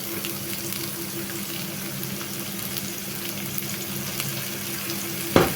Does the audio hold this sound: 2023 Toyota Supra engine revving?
no